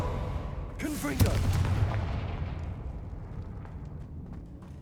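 A Confringo blast spell cast in Hogwarts Legacy goes off in a sudden booming burst, then a low rumbling tail slowly fades over several seconds, loud and close.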